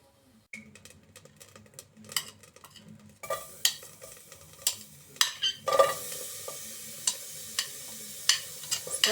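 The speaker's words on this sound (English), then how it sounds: "Now I want to fry them." Lentils frying with cooking oil in a pan at home, with a steady hiss and repeated sharp clinks of a utensil stirring and scraping, growing busier and louder partway through.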